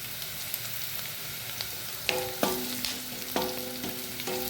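Oil sizzles steadily in a pan, with a few sharp crackles and pops as curry leaves are dropped in and fry.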